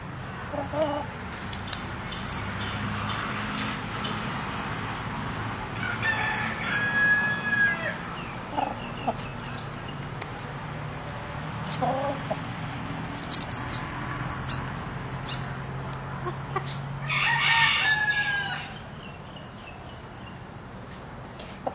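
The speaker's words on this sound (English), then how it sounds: "Speaking of the chicken." A rooster crows in a few loud drawn-out calls with scattered clucking between, set against a steady chirring of crickets and occasional quiet talk.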